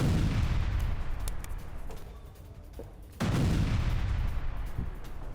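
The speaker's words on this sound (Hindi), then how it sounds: "माइंस क्लियर करते वक्त विस्फोट हुआ है।" A landmine detonates during mine clearing by Russian soldiers in war news footage: a dense, rumbling blast of broadband noise breaks in suddenly partway through and stays loud over an already noisy background, with no talk.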